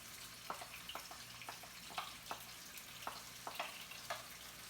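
Garlic and chili sauce frying in a pan, a faint steady sizzle with scattered small pops and crackles, close but quiet, with no talking.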